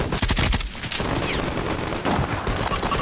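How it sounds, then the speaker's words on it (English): Dense, sustained gunfire from a Call of Duty Warzone match, rapid overlapping bursts and shots at close range, loud and continuous with no pauses, no talking. "They're still shooting me!"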